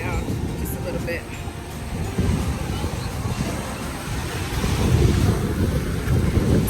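Wind gusts buffet the microphone over rolling surf on a rocky beach in Playa del Carmen, Mexico, with the waves swelling louder toward the end.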